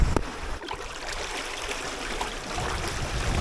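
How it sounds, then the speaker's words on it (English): White water churns and rushes off the rudder and skeg of a 21ft home-built sailboat at sea on an Atlantic crossing, a steady close wash of turbulent water with splashy hiss throughout. "amount of white water coming off the rudder and skeg"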